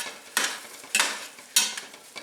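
Potatoes boil in a pot on the stove, the lid rattling in three or four sharp bursts a little over half a second apart, fairly close and with no talking.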